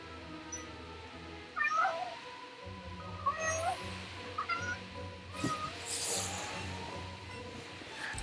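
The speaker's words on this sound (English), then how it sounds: "It sounds like a totally defeated meow." A cat meows several times in a Pokemon Let's Go game, each cry drawn out and forlorn, spread across the stretch over a low steady background with some brief noise bursts.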